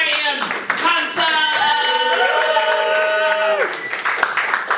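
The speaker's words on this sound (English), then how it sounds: "Can you please put your hands together? Cheer." Comedy club audience at Bicester clapping and cheering to welcome a comedian, a moderate wash of applause running under a voice that talks and hums through most of it.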